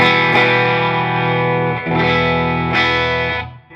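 A Line 6 DT50 guitar amp with the drive cranked, sustained thick distorted chords ringing loud and close, with three sharp re-strikes and a fade at the end.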